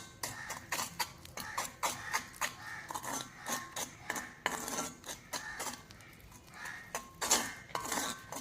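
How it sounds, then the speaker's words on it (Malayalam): Natural indigo hair dye paste being stirred in a bowl, a steady run of close scraping and clinking of a utensil against the bowl with rhythmic strokes throughout. "പിന്നെ നമുക്കിത് ഒന്നുകൂടെ ഒന്ന് മിക്സ് ചെയ്തെടുക്കണം."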